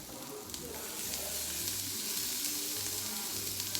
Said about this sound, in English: And here it's sizzling nicely.